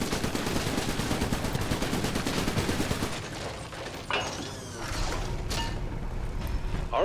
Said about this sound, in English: I can of course hold both of them down to fire all 4 guns at once.